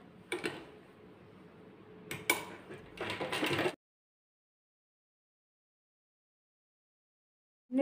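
A sewing machine stitches leftover fabric pieces into house socks, giving short mechanical whirring and clicking bursts over the first few seconds before falling silent.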